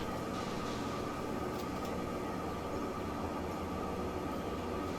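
A Hedvisian commuter train rolls past in Transport Fever 2, its steady rumble and wheel-on-rail hum continuous and moderately loud throughout with no talking.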